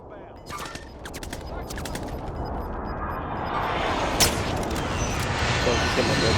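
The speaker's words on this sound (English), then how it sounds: "Friendly precision airstrike inbound." Video game combat with a rolling barrage of gunfire and explosions building in intensity, dense continuous fusillade with sharp cracks and a bright blast near the end, loud and steady throughout.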